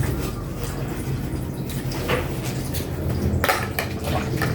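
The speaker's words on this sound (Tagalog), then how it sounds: "Ngayon naman, ligpit-ligpit ng mga ginamit na kawali sa pagluluto." Used frying pans being put away after a home cooking session, with light metallic clinks and clatter over a steady background hiss, growing busier with sharper knocks near the end.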